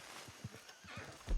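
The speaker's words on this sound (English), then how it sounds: "Horse comes." A horse in Red Dead Redemption 2 whinnies and clops toward the player, with scattered hoof thuds and a louder neigh near the end, all fairly close and without speech.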